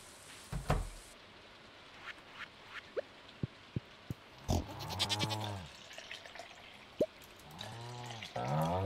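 Pig sounds play when a cow is petted in the farming game Stardew Valley: a couple of short, warbling animal calls rise out of a quiet farm ambience dotted with small clicks and taps.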